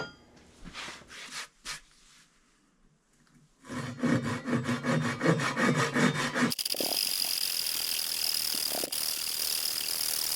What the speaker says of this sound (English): With all that manual sawing out of the way